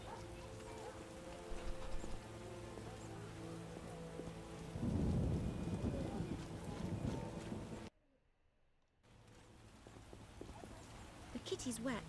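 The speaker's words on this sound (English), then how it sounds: "You can make it rain in a video game." Rain and rolling thunder in the video game The Witcher, a steady downpour with a deep rumble swelling midway, with speech and game sounds over it and a brief silent gap near the end.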